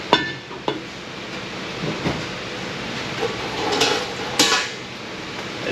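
Sharp metallic hammer blows ring out at irregular intervals, about six strikes on a heavy shaft from a Ford E4OD transmission, loud and close, with ringing after each hit.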